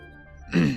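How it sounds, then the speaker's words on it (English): After a quiet moment, someone nearby clears their throat once in a short, gravelly rasp. "Excuse me, gotta clear my throat."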